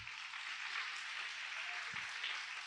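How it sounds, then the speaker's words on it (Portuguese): A church congregation claps and applauds steadily, a dense, even wash of hands, moderately distant, with a brief low thump near the end. "Aplauda bem forte ao Senhor."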